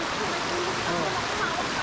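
A clear, cold stream in a forest eco park rushes steadily and fills the scene with close, continuous gurgling and hissing water noise.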